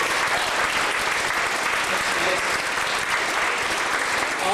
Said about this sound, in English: Let's give these students a warm round of applause.